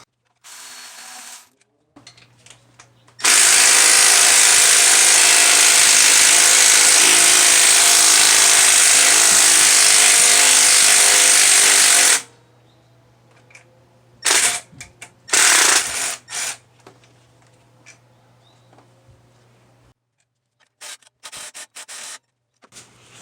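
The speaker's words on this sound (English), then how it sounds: "we're going to take off the 14mm bolts that are holding in this AC bracket" Power tool run on 14mm bolts holding an engine AC bracket on a WRX/STI motor: a loud continuous whir lasting about nine seconds, then short bursts, ratchet clicks and mechanical clatter in a quiet workshop.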